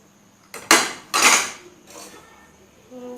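A plate is picked up and sandwiches are set onto it in a kitchen, making two sharp clinks of crockery close by followed by a softer knock, with no talk.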